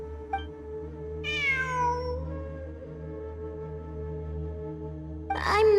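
A cat in the Genshin Impact video game gives a clear, drawn-out meow that falls in pitch, then a second meow starts near the end, both over a steady low in-game hum.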